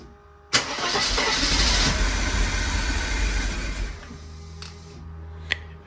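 A Mercedes W124 300E is cranked with new fuel injectors fitted, a sudden loud grinding churn that runs for a few seconds and then dies away, leaving a low hum and a couple of faint clicks.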